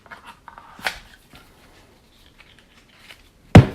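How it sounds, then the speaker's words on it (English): A stack of playing cards is slid into its cardboard box: soft rustling and light taps, a quiet pause, then one sharp close thump as the deck settles in. "You can put the cards in the box"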